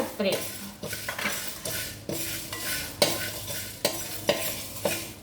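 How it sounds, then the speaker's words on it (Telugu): Cloves, black pepper and other whole spices dry-roasting and being stirred in a pan for a chili spice powder, giving repeated scraping and clattering stirs with a light sizzle, fairly close, with no talk. "ఇప్పుడు లవంగం ఇవి సువాసన రావాలండి అలా వేయించాలి"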